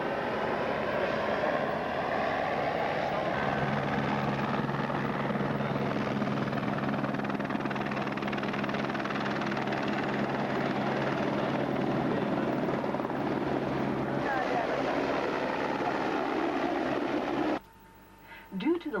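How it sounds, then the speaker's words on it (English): A helicopter roars steadily nearby with a deep rhythmic rotor thump and engine whine, loud and unbroken for most of the clip before cutting off abruptly. "עכשיו אנחנו עומדים לנסוע בהליקופטרים."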